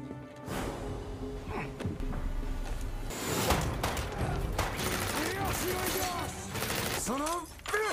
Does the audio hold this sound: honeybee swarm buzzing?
no